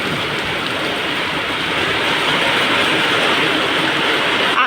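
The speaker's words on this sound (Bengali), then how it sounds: "প্রচণ্ড জোরে বৃষ্টি পড়ছে।" Heavy rain pours down in a dense, loud, unbroken roar, steady from start to finish with no voices.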